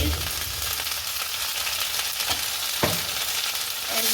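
Spice paste and a few green chillies fry in hot oil for a stingray and greens curry, giving a steady close hiss with a couple of sharp spatter pops and light stirring scrapes, no talking.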